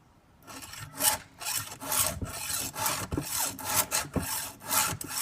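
A file drawn across a chainsaw chain to sharpen it gives a series of rhythmic rasping strokes, about one each half second, close and distinct, with brief pauses between passes and no talking.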